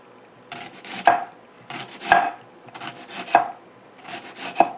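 A knife slices through a head of cabbage on a cutting board in four evenly spaced strokes, each a crisp crunching cut ending in a firm tap, close and clear with no voices.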